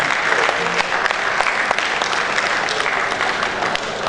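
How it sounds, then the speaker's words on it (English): Dense, steady applause from a large audience at a youth Scrabble championship gala and awards night, continuous clapping throughout with no talk over it. "That deserves a round of applause"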